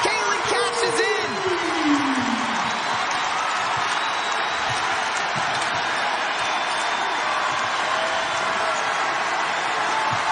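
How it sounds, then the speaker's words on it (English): A packed arena crowd at the Iowa versus Michigan State Big Ten women's basketball game roars loudly and steadily throughout, with a commentator's voice running over the noise. "Listen to this crowd."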